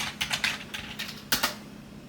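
Keys clack in quick, uneven bursts as a search is typed on a computer keyboard, close and crisp with short pauses between strokes and no voices over them.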